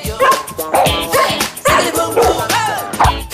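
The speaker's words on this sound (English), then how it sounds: "I have here a series of dog barks, each recorded in a different situation," A recorded dog barks in a quick run of several sharp, loud yips and woofs, close and repeated, with slight whimpering tones between.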